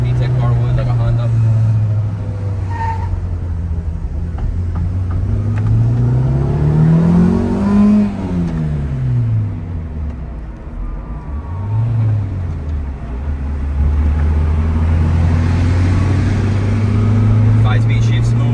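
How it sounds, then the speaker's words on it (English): A 1995 Mitsubishi Cyborg hatchback with a 1.6L MIVEC engine and 5-speed manual pulls at wide open throttle, revs rising and falling through gear changes, with a droning exhaust and road noise from inside the car. "We're gonna get to the highway part and do a wide open throttle pull."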